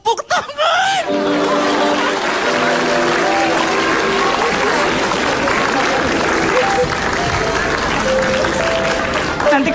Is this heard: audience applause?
yes